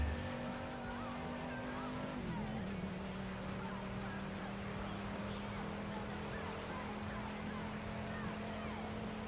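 A car engine in the video game The Crew 2 drones steadily with a shifting pitch, revving and easing over a constant background roar, with no clear pauses.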